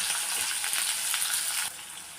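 Finely chopped large onion sautés in a pan for carrot rice, a steady bright sizzle that drops noticeably softer near the end, no voices.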